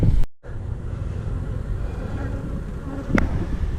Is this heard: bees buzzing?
yes